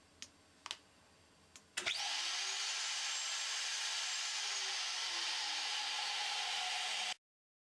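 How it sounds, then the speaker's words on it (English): A floating head wood cutter's spindle spins up after a few sharp clicks, then runs as a loud, steady whine for about five seconds before cutting off abruptly into silence. "Still start the spindle, however stop it straight away."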